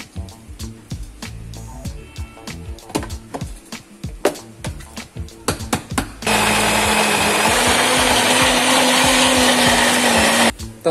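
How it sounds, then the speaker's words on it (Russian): A blender roars on loudly and steadily for several seconds blending tomatoes, onion, garlic and chili, preceded by clattering kitchen sounds and knocks, then cuts off abruptly. "А затем это все забабахать в миксере."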